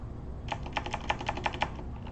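A quick burst of typing on a computer keyboard: around ten crisp, evenly spaced key clicks up close over a low background hum, with no talking.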